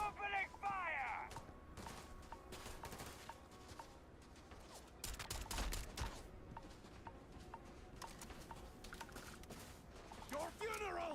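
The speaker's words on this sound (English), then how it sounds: "Opening fire!" Gunfire crackles in Starfield combat, with sharp, irregular shots and short bursts over game sound and effects, loudest near the middle.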